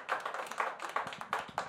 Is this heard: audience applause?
yes